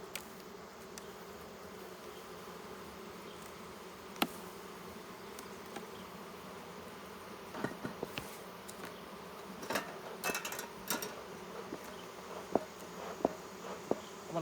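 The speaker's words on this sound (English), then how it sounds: "make the bees get off so I don't squash so many." Honeybees from an opened queenless hive buzz steadily and fairly close, a dense agitated drone with scattered louder passes and small knocks and scrapes from the hive in the second half.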